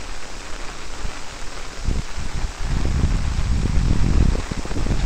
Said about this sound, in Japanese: こんな雨すごいで